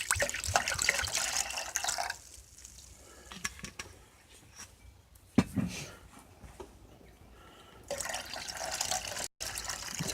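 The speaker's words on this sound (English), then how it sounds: "Just using the rest of this bottle of soy sauce." Soy sauce being poured from the last of a bottle while making shoyu tamago, a close liquid trickle and splash that comes in bursts with short quiet gaps between pours.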